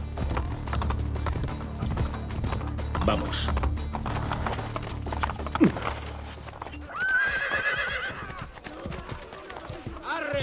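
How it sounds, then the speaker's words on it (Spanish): A horse gallops with rapid, steady hoofbeats and lets out a whinny in Assassin's Creed Brotherhood, a video game. Someone talks over the riding, with mechanical clicks and ratcheting near the end. "O sea, el viaje a caballo, largo."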